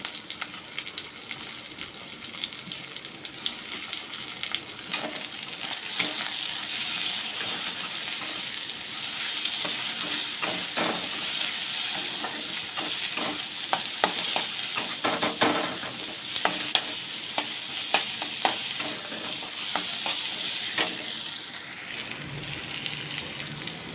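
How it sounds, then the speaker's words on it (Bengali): Onions and fresh coriander leaves sizzle steadily in a hot pan, a continuous crackling fry with occasional stirring scrapes, close and moderately loud, no talking. "পেঁয়াজগুলো ভাজা ভাজা হয়ে গেছে"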